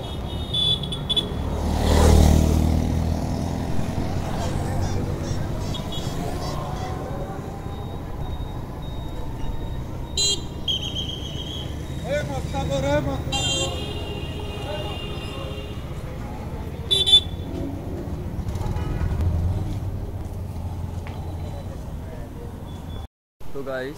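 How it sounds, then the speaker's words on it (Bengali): Congested street traffic at a BRTA office area in Bangladesh, with cars and motorbikes rumbling and engines idling close by, a few short horn-like tones, and someone talking over the noise through much of it. "এই দেখেন কি অবস্থা, দেখছেন কি পরিমাণে জ্যাম পড়ছে এখানে।"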